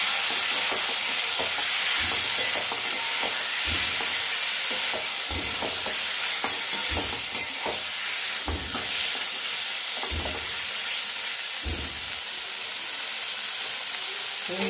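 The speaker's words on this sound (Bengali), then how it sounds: "এবার আমি চিংড়ি মাছগুলো ভেজে নেব" Prawns fry in hot oil in a kadai with a constant loud sizzle and hiss, marked by repeated scraping, stirring strokes at a steady rhythm.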